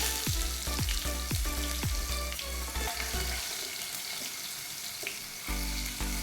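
Small shallots fry in a pan with a dense, loud, continuous sizzle. A series of rhythmic knocks or scrapes sounds in the first half.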